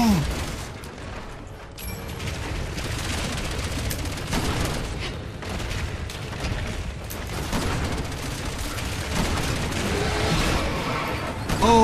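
Dense gunfire and booming impacts fill a Resident Evil 6 boss fight, with sustained rapid shots and crashes continuing throughout, loud and close, while voices talk intermittently over the action.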